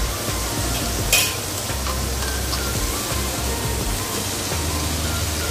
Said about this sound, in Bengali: এবার আমি বাকি সবজিগুলো দিয়ে দিচ্ছি।